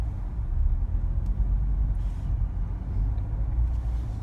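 New Chevrolet C7 Corvette on the road with a steady low engine and road rumble from inside the car, fairly quiet and unbroken, with no talk.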